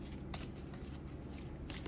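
A Gypsy oracle deck, the baralho cigano, is shuffled by hand in a continuous close riffle of soft papery flutters and light snaps for about two seconds, with no speech.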